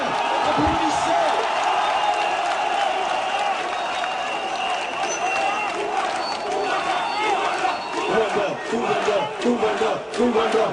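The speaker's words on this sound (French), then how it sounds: "applaudissez bien, applaudissez" Audience applause at a Cameroonian political event honoring a professor, a steady dense wash of clapping and crowd noise throughout, with some voices and cheering mixed in.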